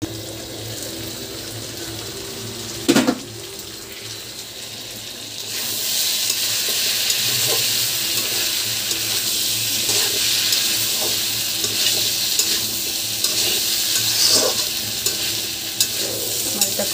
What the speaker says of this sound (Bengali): আমার মশলা কষানো শেষ, এখন এই বিচিগুলি দিয়ে কষাবো।